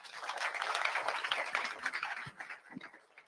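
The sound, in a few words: applause for a speaker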